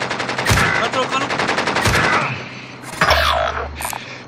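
Assault rifle bursts in Call of Duty Warzone, several loud rapid volleys with gaps between them, plus other battle effects and brief game noise.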